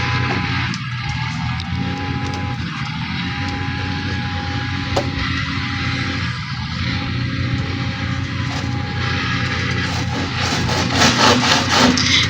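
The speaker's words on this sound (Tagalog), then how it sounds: "nilalagarin na niya yung mga sobrang kawayan" A hand saw cuts off excess bamboo at a building site, a loud, continuous rasping drag of blade on bamboo, close and steady throughout, with a harsher grinding finish.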